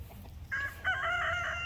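A rooster crows nearby, a drawn-out rising call, with faint clucking and low background noise around it.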